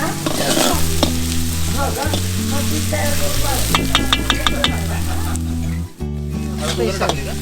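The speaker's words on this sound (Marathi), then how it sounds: "आता कांदा वगैरे टाकलाय परतायला छान आता मस्त परतून घेऊयात" Onions fry on a wood-fired chulha stove at an outdoor plateau campsite, a steady close sizzle running the whole time under background music, with a brief stir-like break near the end.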